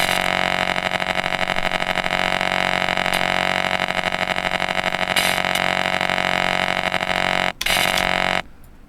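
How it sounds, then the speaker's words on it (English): A PC ground-noise effect for making music sound like it's coming through a radio: a steady, loud electrical hum and buzz with dense harmonics that runs almost continuously, breaks off briefly near the end and then returns before cutting out. "And then you have PC ground noise"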